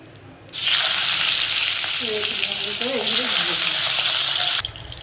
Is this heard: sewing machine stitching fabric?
no